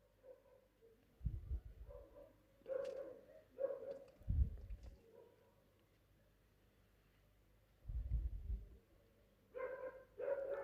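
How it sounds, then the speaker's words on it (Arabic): Dogs bark in several short bursts at a distance outdoors, with quieter gaps and faint bird calls between them. "الكلاب دي في اي وقت دلوقتي صوتها بيبقى غريب"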